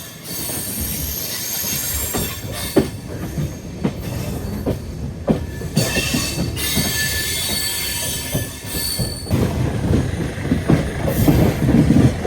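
Metal wheels of the Amrit Bharat Express squeal and grind loudly on the rails on the line from Ernakulam Junction, with rhythmic clacking and rumbling from passing cars throughout.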